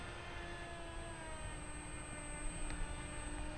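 Electric motors of a remote-controlled V-22 Osprey model tiltrotor whine steadily in flight, a continuous high-pitched drone with layered tones that rises slightly near the end, heard fairly close with no speech.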